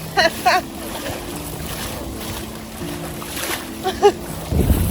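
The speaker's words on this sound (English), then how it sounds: "These splashes are all dolphins coming our way." Dolphins splash at the surface beside a sailing boat at sea, producing a few brief, sharp splashes over a constant wash of wind and water noise.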